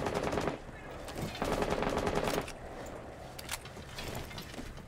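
Rapid automatic gunfire rattles in bursts during a Rainbow Six Siege match, with dense volleys broken by brief pauses and scattered single shots at close to mid distance.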